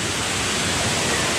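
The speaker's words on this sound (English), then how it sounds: "A beautiful waterfall!" A waterfall at a theme park in Orlando pours as a dense, steady, broadband rush that fills the whole stretch, loud and unbroken, with no voices over it.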